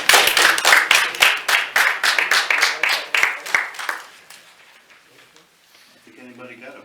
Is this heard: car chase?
no